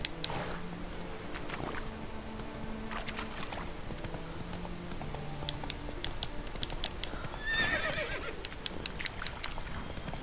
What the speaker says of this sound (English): As my horse comes out of literally nowhere.